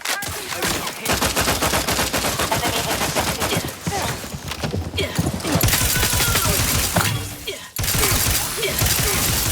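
Sustained video-game gunfire from The Outer Worlds 2, dense rapid bursts and a fusillade of shots with a brief pause near the start and another toward the end, loud and continuous.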